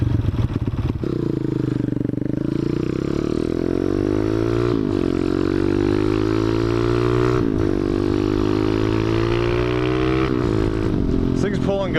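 A motorcycle with a carbureted engine drones loudly while being ridden, climbing in pitch through several gear pulls with short dips at each shift, and a voice talking over it at times.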